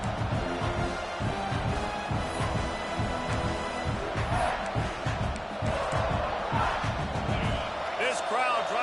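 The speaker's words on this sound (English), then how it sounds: "This crowd trying to make life miserable for this offense." College football stadium crowd roaring steadily at a game, a broad sustained wall of noise with thuds and shouts rising through it, while a commentator's voice talks over the top.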